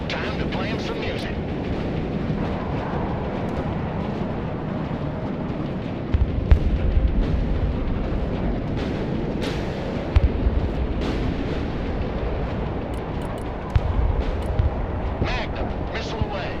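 Missile launch and strikes in the Broken Arrow strategy game: a steady roaring rumble with several sharp, loud bursts spaced a few seconds apart, layered under a bed of continuous combat noise.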